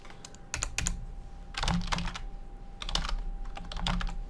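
Password being typed on a computer keyboard: three bursts of rapid key clicks at close range, separated by short pauses, with no speech.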